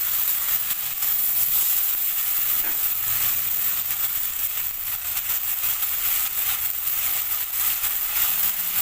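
Turmeric-laced spice paste frying for a Bengali fish curry with potatoes, giving a steady close hiss and sizzle that runs evenly throughout with no voices.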